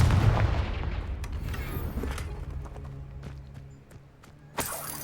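A Confringo fire spell blast in the Hogwarts Legacy video game: a dense roaring whoosh that trails off over several seconds, with scattered crackles and a sharp, loud burst near the end.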